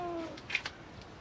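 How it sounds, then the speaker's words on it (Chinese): A stray cat below an apartment building gives a short, faint meow, a single brief cry after a fading tone, heard alone against quiet background noise. "是我们楼下的流浪猫叫了快一天了"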